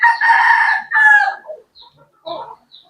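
A gamefowl rooster crows loudly and close by in one long call, followed by a few short, softer clucks and calls.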